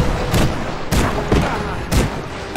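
Repeated cannon blasts from airships in the strategy game Airships: Conquer the Skies, four heavy booming volleys roughly every half second to second, loud and close over a constant rumbling battle backdrop.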